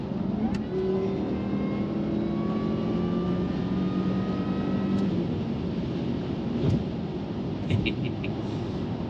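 A Jaguar S-Type R engine revs up as the car accelerates to overtake, pitch climbing steadily, heard from inside with a constant road roar underneath.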